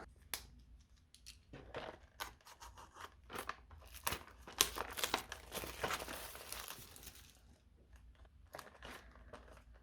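Packaging for a set of Languo ballpoint pens being opened up close, with quiet crinkling plastic, snips and small rustling clicks in irregular bursts, no voices.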